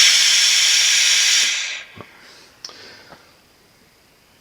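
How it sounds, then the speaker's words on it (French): A steam iron station lets out a loud, steady hiss of steam that stops abruptly after about a second and a half, followed by a few faint clicks and taps in near silence. "Et une puissance importante au niveau de la vapeur."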